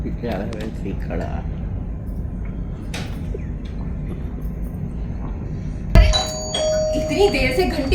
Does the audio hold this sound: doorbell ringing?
yes